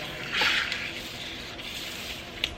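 Water from a hose flushes grime out of a car wheel and wheel well, a brief louder gush near the start, then a softer continuous splash.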